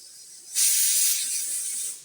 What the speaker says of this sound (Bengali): চালটা ভেজে নিচ্ছি।